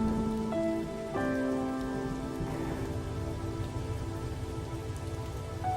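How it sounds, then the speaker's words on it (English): Steady rain falls continuously in a Halo Reach game scene, an even broadband wash with faint tonal music layered over it and no voices. "Why can't this rain just stop?"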